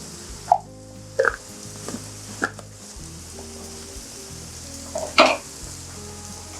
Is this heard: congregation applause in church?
no